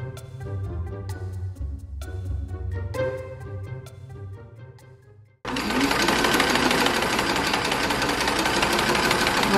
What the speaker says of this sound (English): I felt confident in the machine, so I sewed the shoulder seams on the top of my combinations.